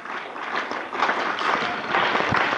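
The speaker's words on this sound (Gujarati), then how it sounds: "આપણે સૌ તાળીઓના ગગડાથી બધાવી લઈએ." Audience at a school Republic Day celebration in Ambada, Navsari, Gujarat, India breaks into applause, a moderately loud, steady patter of many hands clapping together.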